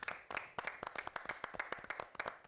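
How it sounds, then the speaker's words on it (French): An audience applauds a guest arriving on a French show: a brisk run of many close, sharp handclaps at moderate loudness, with no talk over it. "On va applaudir pour la soutenir."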